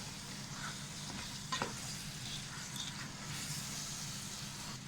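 Fried chicken pieces are stirred into a sizzling masala with coriander leaves for Thalassery biryani, giving a steady hiss of frying oil with light scraping from the stirring and a brief, louder clatter midway.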